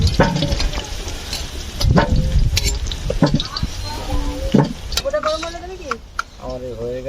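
Potatoes fry in turmeric in a pan, giving a continuous sizzle marked by sharp scrapes and clicks of stirring, while a person talks over the cooking.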